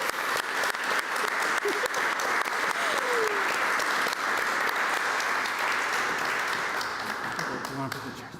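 At the 2021 Leadership Breakfast, a crowd gives graduating teens a sustained round of applause, a steady wash of many hands clapping at moderate volume, with a few indistinct voices mixed in.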